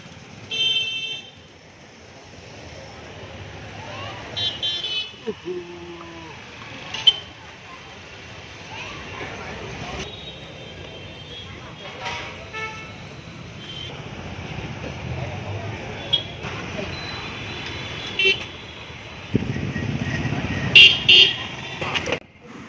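Road traffic on a busy street where a car stops near a pani puri stall, with a continuous hum of passing vehicles, scattered car horn toots and a longer honk near the end, under intermittent talk.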